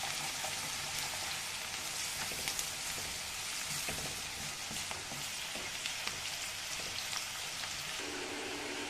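Onions frying in oil for a masala vegetable upma, a steady dense sizzle and crackle that runs without a break, with light stirring clicks and no talk.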